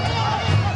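A crowd at a street fight in Cebu City's Carbon Market district roars and shouts in a brief, dense burst of excited voices.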